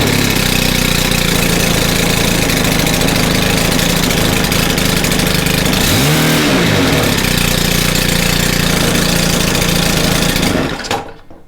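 A Stihl KM130R gas engine on a new carburetor runs without choke, very loud and close, holding a steady buzzing rev, briefly dipping and recovering, then cutting off abruptly at the end.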